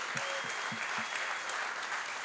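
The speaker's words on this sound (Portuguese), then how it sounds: "Uma salva de palmas para o kuduro." An audience applauds kuduro, the Angolan music style, during a conversation, a steady, fairly faint wash of clapping with a few low thumps near the start.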